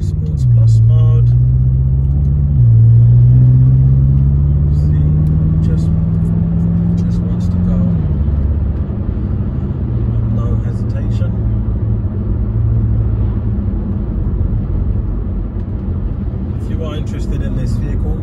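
A 2012 BMW M5 engine droning steadily while driving in Sports Plus mode, a loud continuous rumble whose pitch rises and shifts as it accelerates through gears, fading to a steadier cruise.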